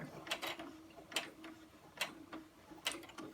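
A sewing machine stitches a fabric mask in short bursts, several quick clicking runs separated by pauses, close and fairly quiet with a faint steady hum between.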